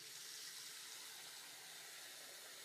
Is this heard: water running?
yes